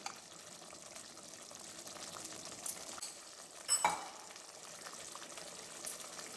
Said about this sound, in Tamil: நான் நல்லெண்ணெய் ஊற்றுறேன்.